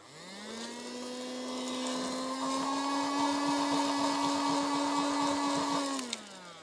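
A cheap eBay vacuum cleaner with weak suction runs alone, its motor whine rising as it spins up, holding a steady tone for several seconds, then winding down as it switches off.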